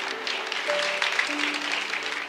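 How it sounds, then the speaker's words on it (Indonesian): Church congregation clapping during a sermon, a moderate wash of applause sustained for a couple of seconds with soft organ-like tones beneath, fairly even and mid-distance. "tepuk tangan. Haleluya."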